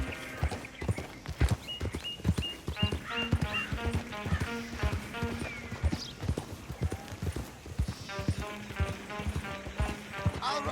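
Horse hooves clip-clop steadily as a horse-drawn coach approaches in Red Dead Redemption II, a brisk close rhythm with a brief whinny, while voices talk over it.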